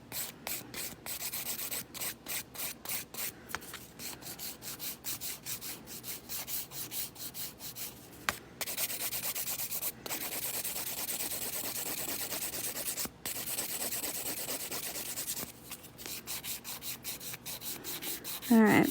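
Buffing the clear top coat of a manicure with a hand buffer, a steady dry rubbing and scrubbing that runs nearly continuously at close range, broken by a few brief pauses.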